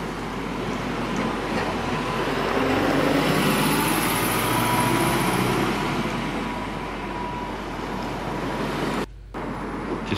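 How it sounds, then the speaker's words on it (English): Kingston University bus in Norbiton, London, rolling past amid general street traffic, its engine swelling and fading over several seconds before a brief dropout near the end. "And another of the Kingston University buses there."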